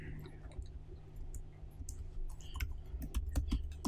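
Someone types a command on a computer keyboard in a room with a steady low hum, giving scattered light clicks that grow denser and louder toward the end.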